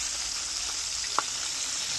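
Bhola fish fries in hot oil with a steady, even sizzling hiss heard up close and alone, broken once by a brief faint tick.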